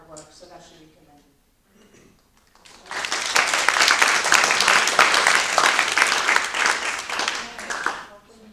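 A board of education meeting audience breaks into applause after brief talk, a sustained wash of many hands clapping for about five seconds before fading back to voices.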